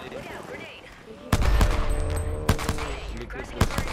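Heavy automatic gunfire in a video game, sudden loud bursts breaking in after quieter voice-like sounds, with sharp cracks recurring over a sustained roar.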